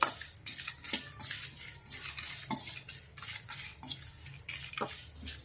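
Amla for pickle roasts in a pan over a low flame as a spoon repeatedly scrapes and clinks against the metal in an irregular stirring rhythm, with a faint sizzle underneath and no voices.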